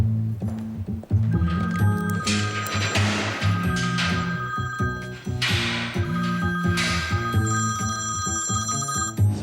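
A phone rings repeatedly in an electronic tone while a call is being placed, loud and close, over a background of dramatic music, with no talk.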